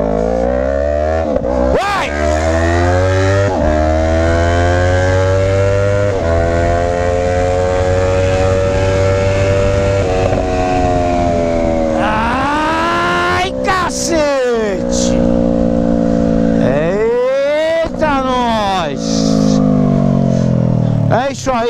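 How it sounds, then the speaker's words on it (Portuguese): A Yamaha MT-03 motorcycle fitted with an Atalla full 2-into-1 stainless steel sport exhaust revs and pulls through the gears, engine tone climbing and dropping loudly through repeated shifts, close and sustained. "Escapamento esportivo da sua moto."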